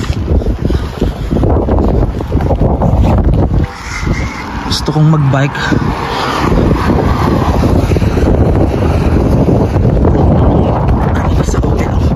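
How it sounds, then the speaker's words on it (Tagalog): Strong, gusty wind buffets the microphone outdoors at Smoky Lake, Alberta, Canada, before rain, a loud continuous roar with a brief dip partway through, while someone speaks over it. "Lakas ng hangin sobra."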